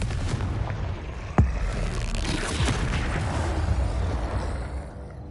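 Confringo fire-blast spell in Hogwarts Legacy, heard as one sharp booming burst near the start over a dense, continuous rumble of combat noise that carries on throughout.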